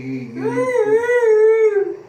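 A dog howls close by, one long wavering mournful note rising from a whimpering start and holding loud and clear before fading out.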